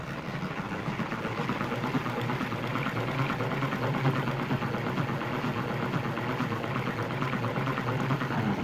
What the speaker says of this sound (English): We spin the perforated basket.